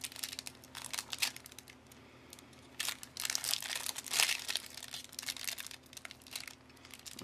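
Foil wrappers of Minecraft sticker card packs crinkle and tear in repeated bursts, close and fairly loud, with brief quieter pauses between rips and no talking.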